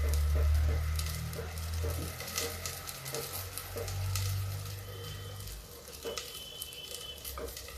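Potatoes frying in a pan on a home stove, a soft continuous sizzle with occasional stirring clinks and patter, under a low background hum, while a person talks intermittently.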